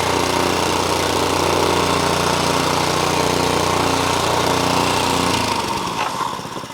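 A plate compactor's engine runs loud and steady on a walkway with a continuous rumbling drone and vibrating rattle, then throttles down toward idle near the end.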